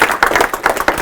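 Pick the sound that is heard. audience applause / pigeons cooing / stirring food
audience applause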